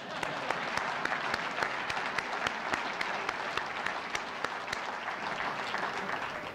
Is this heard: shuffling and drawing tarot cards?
no